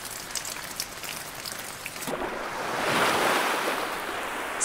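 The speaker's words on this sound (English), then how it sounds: "As the rain poured down, they raced back to the village" Steady heavy rain pouring down, a dense continuous hiss that swells and broadens partway through, heard alone without any voices.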